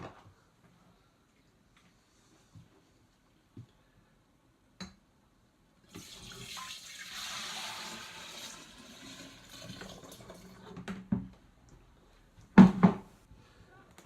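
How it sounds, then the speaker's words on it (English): Faint clicks and knocks give way to a rushing pour of liquid into a container, ending with a couple of sharp clinks. "And then I'm going to pour it inside the container."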